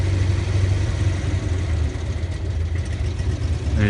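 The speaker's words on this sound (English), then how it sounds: "I like to adjust that idle just a bit, because it's a bit off." A car engine idles steadily while its idle setting is adjusted, a loud, continuous low rumble with no talk over it.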